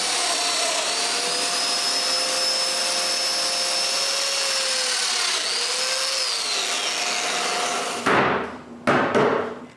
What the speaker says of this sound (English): now I can drill all the mortises